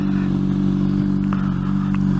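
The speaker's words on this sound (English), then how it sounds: "figured I'd bring you the first impressions on the motorcycle" A Honda CBR 600RR sport bike fitted with a Tose aftermarket exhaust and a Power Commander runs steadily nearby, a loud, even low engine drone with faint rattles and clatter over it and no speech.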